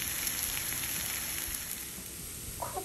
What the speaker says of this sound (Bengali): ভাজতে ভাজতে রসুনটাও সিদ্ধ হয়ে যাবে, রসুনটাও গলে যাবে